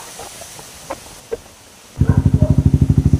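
A Yamaha Sniper 155 motorcycle with its exhaust silencer removed fires up after a few faint clicks, its engine pulsing in a loud, rapid, raw staccato close by.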